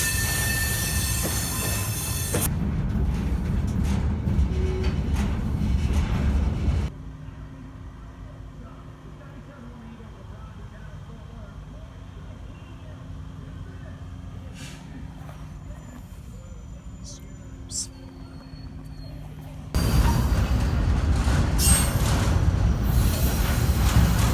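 A train backing slowly into a rail yard on a Dallas to West Memphis run, with a steady low rumble, brief thin wheel squeals midway and louder rolling noise at the start and end.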